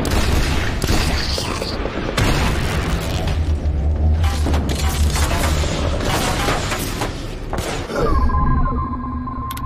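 Explosions and bursts of combat in the video game The Bureau: XCOM Declassified, loud, broad booms repeating over a dense battle backdrop, with a swell near the end.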